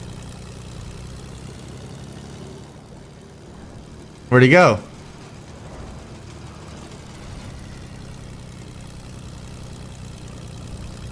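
Airplane in Fortnite flying with a steady low engine hum running throughout, close and even, while a voice cuts in once briefly over it.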